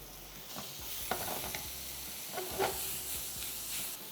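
Chopped tomatoes fry in a pan for dhaba-style baingan bharta, a soft steady sizzle with occasional stirring scrapes and clinks, close and moderately loud.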